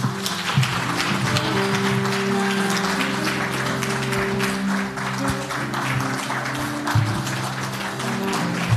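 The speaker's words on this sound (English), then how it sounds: "Keep on clapping for Diana," A crowd at a Kenyan political rally keeps clapping for Diana, a continuous wash of applause with rapid scattered claps over a low hum and faint background voices, steady and sustained for several seconds.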